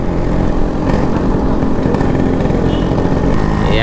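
A Hero Passion Pro motorcycle engine drones loud and steady close by for a few seconds, a dense continuous rumble with no speech.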